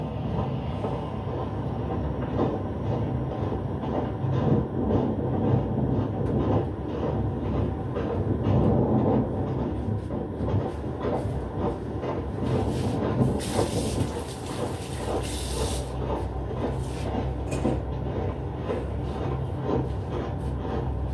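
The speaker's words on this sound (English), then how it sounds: "I think the subway line also kind of cuts through here, through the ravine." A subway train passes beneath a ravine park, producing a loud continuous rumble and hiss with rhythmic clattering that holds steady throughout, with a brief brighter burst partway through.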